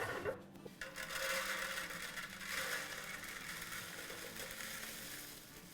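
Crispy puri frying in hot oil, a steady, soft sizzle and crackle that carries on evenly without any talk.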